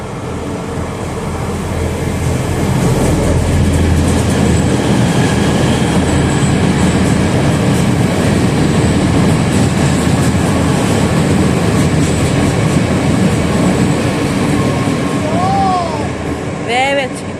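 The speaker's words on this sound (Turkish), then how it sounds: "Beklediğim tren geldi. İşte İzmir Uşak treni tam da yakaladım." A passenger train on the İzmir–Uşak line in Turkey rumbles past close by, its wheels clattering steadily on the rails for a long stretch, with a brief squeal near the end.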